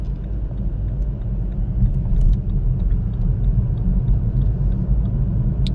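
BMW 118i driving at low speed off a roundabout into a residential estate, a steady loud low engine and road rumble throughout with no talk.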